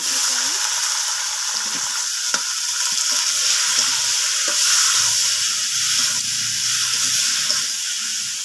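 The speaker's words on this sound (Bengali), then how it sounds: "আমার ঝাল পেঁয়াজটা হচ্ছে ভাজা হয়ে গেছে বাদামি কালারে। আমি এর ভিতরে একটু টমেটো দিয়ে দেবো" Onions fried brown with tomato added sizzle steadily in a pan over a wood-fired stove, a close, continuous hiss with occasional clicks and stirring, a voice speaking faintly underneath.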